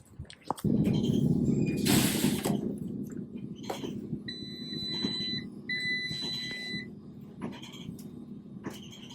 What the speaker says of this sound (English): The timer for the laundry just went off